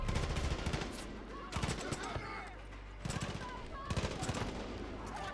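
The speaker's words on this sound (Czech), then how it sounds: "vezmu si oblíbenou pistoli, z toho zdáváme nejčastější headshoty" Pistol fire in the video game Far Cry 5 comes as four loud bursts of sharp gunshots, spaced roughly a second apart, with quieter game ambience in the gaps between them.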